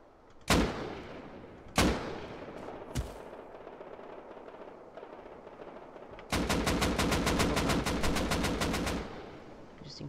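Pistol gunfire in the game Rust: three sharp single shots spaced a second or more apart, then after a pause a fast, even burst of shots lasting several seconds, loud and close, with no talking.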